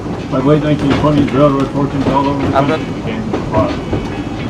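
A narrow-gauge train runs along a Maine railroad, its steady rumble and clatter on the rails continuing throughout while a person talks over it.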